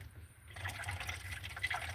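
Coffee is poured inside a small camper car, a short liquid trickle and gurgle that is close and moderately quiet over a low engine-like rumble.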